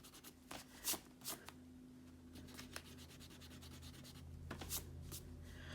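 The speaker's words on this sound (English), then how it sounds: "So I'm just going to go ahead and erase that." Pencil writing being erased on paper: close, irregular rubbing strokes in short bursts, some louder scrubs, with quiet pauses and no speech.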